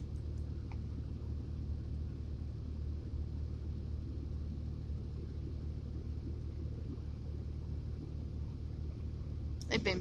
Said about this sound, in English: Here's the blue Mustang coming in.